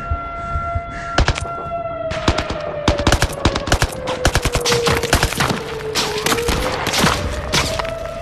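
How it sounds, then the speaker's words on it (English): Rapid gunfire in the VR shooter Zero Caliber, with shots punching through wooden cover: loud, close cracks in irregular bursts over a steady wailing tone, with no talk. "this motherfucker's shooting through the fucking wood"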